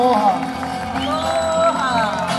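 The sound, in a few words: audience applause for Miss Keiki Hula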